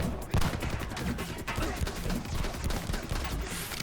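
Shotgun blasts in the Xbox 360 shooter The Club, a dense run of loud repeated gunshots crowding together with other weapon fire throughout, without a pause.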